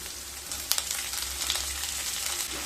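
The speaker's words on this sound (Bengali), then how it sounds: "পেঁয়াজ আদা রসুনকে খুব ভালোভাবে ভেজে নেব।" Chopped onion, ginger and garlic fry in hot oil in a pan for a dhaba-style lasuni methi, a steady close sizzle with a few sharper crackles and the scrape of stirring.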